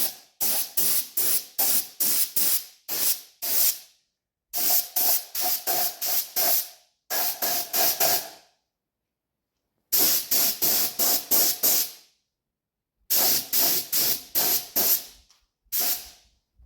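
A spray can lays a light coat of primer on parts of a 1971 Honda CD175 motorcycle. Short hissing bursts come in quick rhythmic clusters, with clean pauses between the groups of sprays, close and fairly loud.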